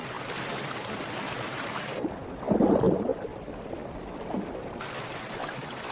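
White-water river rapids in Iceland, a steady broadband rush and roar of tumbling water, with a brief louder surge midway.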